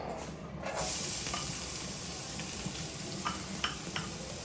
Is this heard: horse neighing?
no